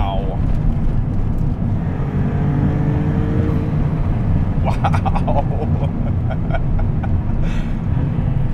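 A Maserati MC20 Cielo supercar engine revs up and down several times with a steady loud roar and rising, falling pitch, heard up close alongside wind and road noise.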